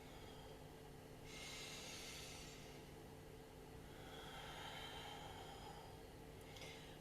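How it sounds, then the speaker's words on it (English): Alternate-nostril yoga breathing: a long, hissing nasal inhale drawn through the left nostril, then a slower airy exhale out the right, close and steady with no talking. "So we're inhaling left, exhaling right."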